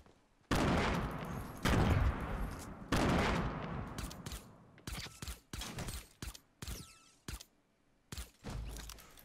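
Suppressed pistol gunfire in Fortnite Battle Royale: a few long muffled bursts, then a quick run of short, sharp shots in an irregular rhythm, loud and close with no talk.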